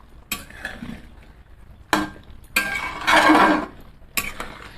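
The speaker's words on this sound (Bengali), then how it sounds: "গরম মশলাটা দিয়ে একটু নাড়াচাড়া করে নেব" Chicken curry with garam masala and almonds stirred in a pan, a spoon scraping and clinking against the metal in four separate bursts with quiet gaps between.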